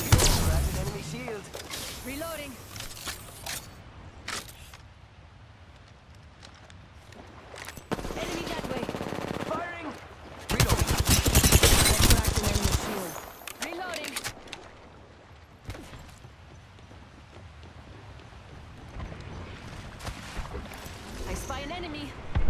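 Gunfire in the video game Apex Legends comes in rapid bursts and single cracks, loudest in a dense volley midway, mixed with game sounds and frequent character voice callouts.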